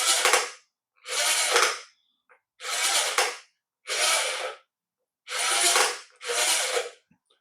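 Six mechanical bursts from a radio-controlled Robot Wars Shunt toy's hammer or spike arm, each under a second, separated by short silences, loud and close, swinging over and back.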